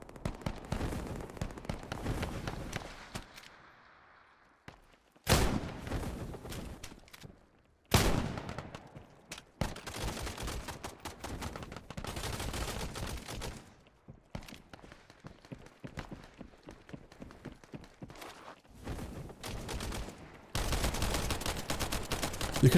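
Gunfire in the VR shooter Contractors Showdown comes in loud bursts of rapid automatic shots and single cracks, broken by short pauses and near-silent gaps, close and sharp with no voices.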